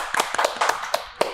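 A small group at a school teachers' event claps sparsely, with a handful of sharp, uneven hand claps close by and no talking.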